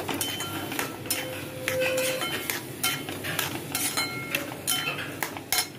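A spoon scrapes and clinks around a metal pot while milk and sugar are stirred together, with steady repeated strokes and sharp clinks, close and moderately loud, no talking.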